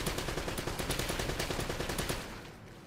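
Rapid bursts of gunfire from the video game Uncharted: Drake's Fortune, a steady automatic rattle of closely spaced shots that runs loud for over two seconds, then drops away and fades out.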